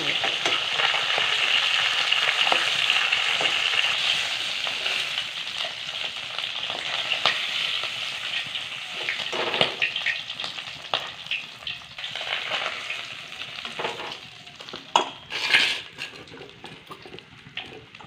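Bhetki fish heads fry in oil with a long, steady crackling sizzle, later interrupted by clattering and scraping as pieces are stirred and lifted out; close and moderately loud without speech.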